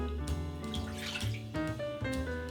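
Water being poured for a vegan marinade in a kitchen, a faint gurgling trickle with a few splashy bursts over a quiet background.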